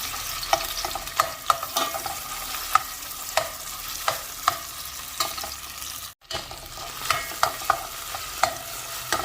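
Cauliflower sizzling steadily as it fries in a pan with onion and tomato paste, broken by sharp scraping strokes of stirring at an irregular rhythm, close and fairly loud with no talk.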